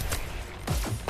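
Gunfire in the HyperDash video game, a quick cluster of sharp synthetic shots bursting in close succession over roughly a second, loud and up front.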